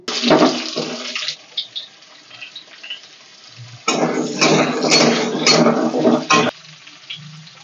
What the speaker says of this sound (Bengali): এবার আমি এর ভিতরে দিয়ে দেব কেটে রাখা আলু